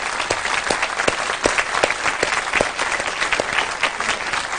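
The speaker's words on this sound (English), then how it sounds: "Carolyn deserves a big round of applause." An audience claps steadily for a guest who has just spoken, a dense, fairly loud patter of hands with a few sharper individual claps standing out, and no talk over it.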